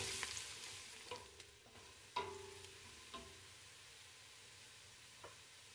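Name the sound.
garlic and ginger frying until golden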